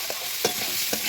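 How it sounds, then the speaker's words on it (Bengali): Potatoes with salt, turmeric and coriander powder get stirred in a frying pan for a rohu fish curry. A few quick spatula scrapes sound over a soft sizzle, close and brief, with no voices. "এখন ভালোভাবে নাড়াচাড়া করে নেব।"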